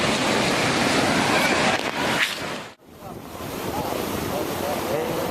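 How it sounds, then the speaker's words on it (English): Tsunami water surging into a California port after an earthquake off Japan, a loud continuous roar of rushing water with heavy wind buffeting the microphone, briefly cutting out midway before resuming just as strong. "This tsunami that hit California was caused by an earthquake off the coast of Japan."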